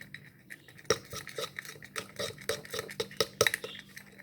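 A utensil stirs warm baby parrot formula for a three-week-old Hahn's macaw in a small container, giving repeated soft clinks and scrapes against the sides, close and fairly quiet with no voices.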